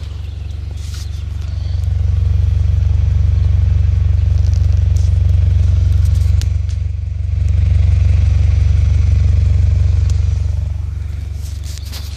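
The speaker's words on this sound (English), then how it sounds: "Then I got my magnaflow exhaust system." A 1999 Honda Prelude with a 97 SH motor, a 5-speed and a Magnaflow exhaust system idles steadily nearby, its low exhaust drone continuous and loud with faint rattles and clatter over the top.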